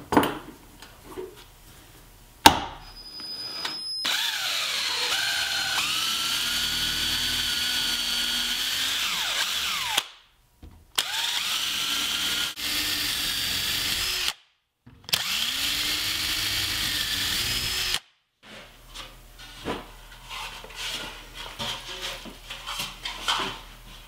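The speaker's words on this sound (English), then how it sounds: "I'm going to drill holes in the top part of the cabinet for adjustable shelves" A power drill bores shelf-pin holes into the top part of a paint can storage cabinet, its high steady whine running in long bursts that stop and restart, with brief pauses between holes.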